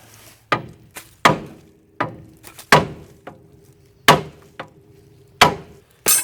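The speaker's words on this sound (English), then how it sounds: "Now let me whoop on this with a big hammer and hope it comes loose" Heavy hammer blows strike metal on a rusted 1975 Chevrolet C20 truck one after another at an uneven pace, each a sharp loud clank with a brief ringing tail, nearby and with no talking.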